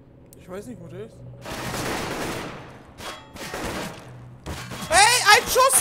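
Bursts of rapid gunfire in Counter-Strike: Global Offensive, on the map Nuke, crackle in several volleys, with a voice shouting in German over the shots near the end.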